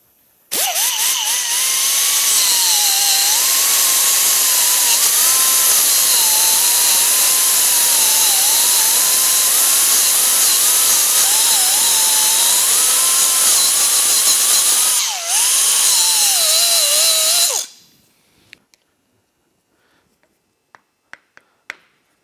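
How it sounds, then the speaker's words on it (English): A cutoff wheel grinds the pins off an ATV drive chain plate on a Honda 400EX, a loud, harsh, high-pitched screech that runs steadily with a brief dip, then stops and is followed by a few light clicks. "use the cutoff wheel at an angle and just grind these off flush with that plate"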